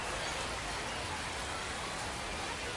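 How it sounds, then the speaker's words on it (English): Steady rain falls at a minor-league baseball ballpark during a San Antonio Missions versus Corpus Christi Hooks game, a dense, even broadband hiss of drops with no breaks, fairly quiet and constant throughout. "with all the rain that we're getting here at the ballpark"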